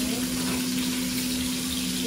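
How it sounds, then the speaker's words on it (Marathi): Paneer shallow frying in a pan gives off a steady, dense sizzle that stays even and close throughout, with a low constant hum underneath. "आता पनीर थोडंसं शॅलो फ्राय करून घेते"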